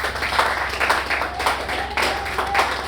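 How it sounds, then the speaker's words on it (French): Applause from an audience at a wedding celebration, a steady patter of hand clapping that continues for about three seconds at moderate loudness with some faint background voices and music. "On peut applaudir les chefs de l'État."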